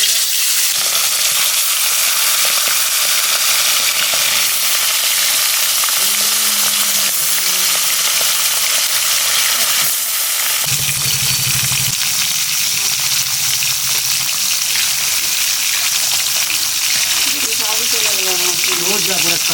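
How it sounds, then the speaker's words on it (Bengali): Fish fries in a pan with a loud, steady sizzle and hiss that runs without a break from start to finish. "আমি এদিকে মাছ ভাজি"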